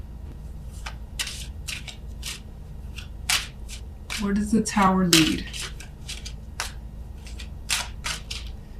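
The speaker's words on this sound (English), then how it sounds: "apologies for the shuffling here." Tarot cards being shuffled close up in a string of quick papery riffles and taps that are busiest in the middle, while a person talks now and then.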